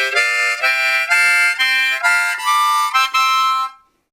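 A harmonica is blown across several holes at once rather than one isolated hole, giving a loud, buzzy chordal sound in short repeated bursts of breath, alone with no talking.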